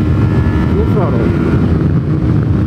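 A Kawasaki Versys 300 motorcycle runs at full throttle, a steady rising engine drone heard from the rider's position under heavy wind buffeting and helmet noise.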